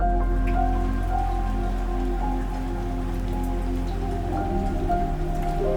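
Steady light morning drizzle patters continuously on surfaces, a dense even hiss of small raindrops under a low hum, unbroken throughout with no voices.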